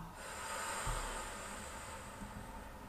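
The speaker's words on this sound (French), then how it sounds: "J'inspire, je gonfle. J'expire, je dégonfle." Slow, deep abdominal breathing is heard as a long, soft airy exhale that fades gradually, close to the microphone in a quiet room.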